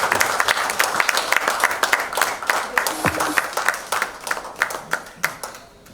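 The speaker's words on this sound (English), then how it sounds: "So that can we have a round of applause for Palash, please?" Audience applause at a live real estate industry podium event, many hands clapping steadily with sharp individual claps standing out, thinning toward the end.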